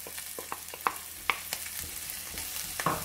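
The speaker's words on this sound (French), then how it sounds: "Donc je vais faire revenir jusqu'à avoir une couleur dorée et translucide de l'oignon." Onion and garlic fry in a pan with a soft, continuous sizzle, broken by light pops and occasional utensil clicks as they are stirred, fairly quiet and steady.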